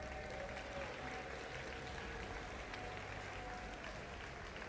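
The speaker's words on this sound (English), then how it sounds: "So give yourselves a round of applause." An audience at a Pokemon VGC championship closing ceremony applauds steadily, a dense wash of clapping that holds at an even level from start to finish, with no break or swell.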